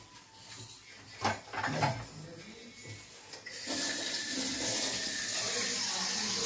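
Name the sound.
water being poured to boil raw mango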